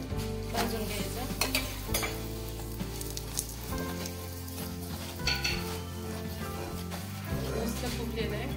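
A sabudana paratha roasts in ghee over a low flame, giving a steady soft sizzle with occasional utensil clinks, set under background music and a voice.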